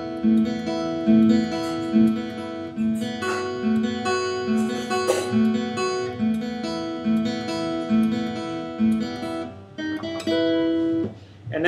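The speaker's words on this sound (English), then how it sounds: "the second guitar plays a little melody kind of that sounds like this" Second guitar picks a small melody, steady and close, layered over a sustained guitar part with a building feel, no talking.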